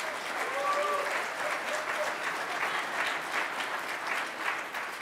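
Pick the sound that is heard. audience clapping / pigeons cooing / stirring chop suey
audience clapping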